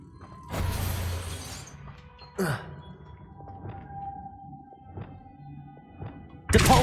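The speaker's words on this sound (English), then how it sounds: "Making this spin ought to raise that platform." A stone platform mechanism in Hogwarts Legacy grinds and clanks as it rises, with a rumbling scrape, a creaking sweep, scattered knocks and a sustained mechanical hum before a loud crash at the end.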